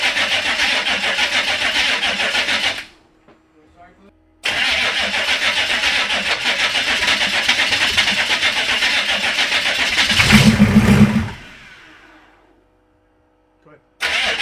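An '85 K30 CUCV truck engine with an electric fuel pump cranks in two long bursts, then catches briefly with a louder rising roar before dying. A quiet gap separates the bursts, and a voice speaks nearby.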